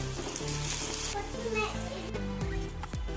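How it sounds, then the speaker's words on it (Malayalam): Onions sauté with salt in a pan of oil for an oats omelette, frying with a steady sizzle while voices and a child's chatter run over it throughout. "ഇനി ഉള്ളി ഇട്ട് കൊടുക്കാം ഉള്ളി ഒന്ന് വാട്ടിയെടുക്കണം"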